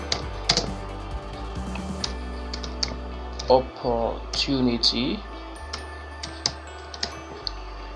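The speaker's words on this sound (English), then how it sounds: "So you can keep on typing, inputting the whole information." Keys clack on a computer keyboard as information is typed into an online NGO name reservation form, scattered taps under a speaking voice.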